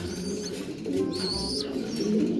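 Racing pigeons coo steadily in low, murmuring tones, with a few higher bird calls and background rustling mixed in.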